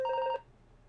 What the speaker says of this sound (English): Phone's going.